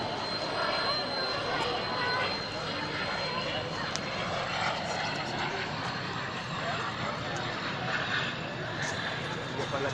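A continuous roar of an aircraft engine as the plane lands, steady and fairly loud, with a faint whine above the rumble.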